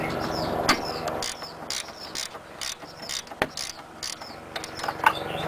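Ratchet wrench loosening upper control arm bolts on a 1995-1998 Honda Odyssey, repeated quick clicking strokes in bursts with short pauses, close and moderately loud, no talk.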